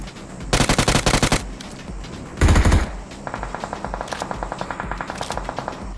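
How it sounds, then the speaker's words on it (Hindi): Heavy automatic gunfire in the mobile battle royale game BGMI (PUBG Mobile) near a school apartment building: two loud rapid bursts, then a longer, steadier stream of fainter shots, with no voices. "लेकिन यहाँ पे बहुत दबा के गोली चल रही है।"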